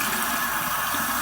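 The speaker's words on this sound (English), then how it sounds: "So a little hot water on it." Hot water pours steadily onto a tallow-based shaving soap in a lathering bowl, a continuous close splashing trickle, heard alone.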